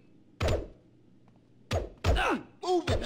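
Punches landing in a Grand Theft Auto San Andreas fistfight: four heavy, dull thunks in an uneven rhythm. A brief grunting voice comes near the end.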